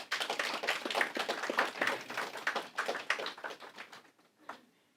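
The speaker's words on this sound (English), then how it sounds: "So please give them a round of applause." Audience applause at an academic lecture on a 17th-century Shi'i Qur'an commentary: dense hand clapping that fades after about four seconds, leaving a few scattered claps at the end.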